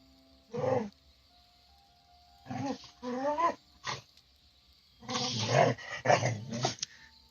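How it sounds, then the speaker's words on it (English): Several pet dogs growl and bark in a room, close and loud in irregular bursts separated by pauses, with no talk over them. "My dogs are going crazy."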